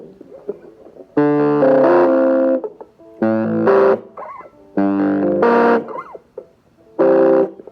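Electric guitar played through an Orange Crush Mini amp with the gain on: four loud buzzy chord bursts separated by short pauses, close and gritty.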